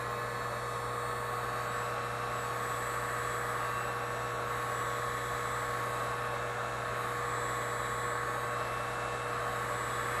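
A heat gun blows steadily while drying the surface of a small clay pottery form, giving a constant, even hum and airy hiss that holds unchanged for about ten seconds with no talking.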